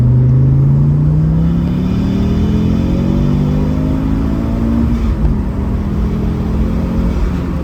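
A tuned Audi S2 with around 300 brake horsepower accelerates hard in second gear on an empty road, its engine note rising steadily in a loud, close, continuous rumble from inside the car.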